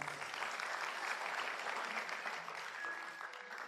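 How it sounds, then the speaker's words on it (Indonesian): Steady audience applause at a motivational seminar, a dense wash of many hands clapping that holds at an even level from start to finish with no voices over it. "Tepuk tangan buat Anda semua."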